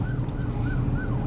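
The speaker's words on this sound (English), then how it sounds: "Now y'all hear these ambulances" Ambulance sirens wail in repeated rising-and-falling sweeps at moderate distance, a continuous emergency-vehicle cry over low rumbling background with no voices.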